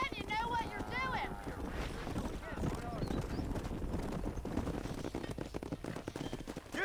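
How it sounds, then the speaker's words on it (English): Cows and horses herded along a road in Red Dead Redemption produce a continuous, busy clatter of hooves mixed with wind and rustling movement, while voices call out over the top. "Herd the cows down the road."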